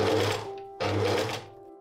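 A sewing machine stitches skirt panels of heavy fabric together for a couture dress, two loud close bursts of rapid mechanical whirring separated by a brief pause, alone without talk.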